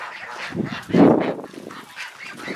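Several geese honk in a busy, overlapping cluster, one loud nasal call standing out near the middle, close by and with no talking.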